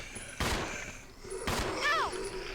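Gunfire in the survival horror video game Resident Evil 0, two loud shots about a second apart with a brief squealing creature-like cry after the second, over quiet eerie game ambience.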